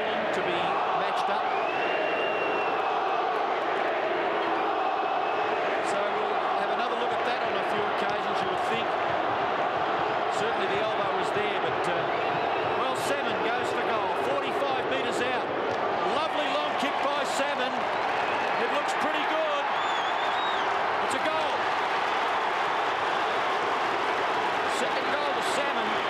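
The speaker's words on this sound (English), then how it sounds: "Interesting to hear the crowd going boring, boring the whole time" Australian football crowd at the 1995 Richmond versus Essendon semi final keeps up a steady, distant roar with rhythmic chanting, running throughout beneath a commentator's continuous talk.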